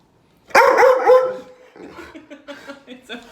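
A dog barks several times loudly and close in a home, then gives softer yips and whimpers, with people talking over it.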